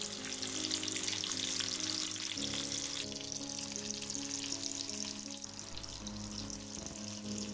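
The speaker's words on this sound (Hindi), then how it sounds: "नॉन स्टिकी फ्राई पैन लें और मीडियम गैस पे तेल को गरम कर लें और मैरिनेट की हुई फ़िश को उसमें आराम से छोड़ दें" Marinated pomfret fish frying in hot oil in a non-stick pan over medium heat, giving a continuous, even crackling sizzle at close range with a low hum beneath, no talking.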